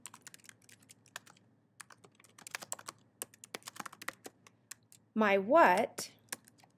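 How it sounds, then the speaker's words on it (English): Close-up, uneven clicking of keys as someone types on a computer keyboard, in quick bursts and pauses, followed by a short spoken phrase at the end. "I'll type in"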